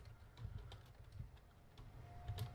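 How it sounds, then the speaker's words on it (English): Clicky computer keyboard typing in a new office, a quiet, steady patter of key clicks with irregular rhythm against low background hum, fairly faint and distant, with no talking. "Sorry if you hear my keyboard, all the clickety-clack sounds"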